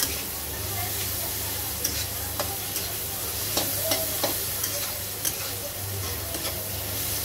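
Shredded cabbage and capsicum stir-frying for a home-style Chinese dish, a loud steady sizzle broken by repeated sharp clicks and scrapes of a spatula against the pan.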